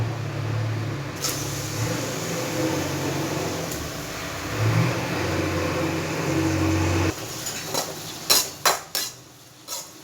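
Onions sautéing in oil in a pan for egg fried rice, a steady low frying hiss for several seconds, then a few sharp metallic knocks and scrapes of a utensil against the pan near the end.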